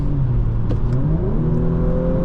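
A 2020 Audi S4 3.0T engine revs up during a drive, its pitch climbing smoothly and loudly close by, then holds at a higher whirring drone.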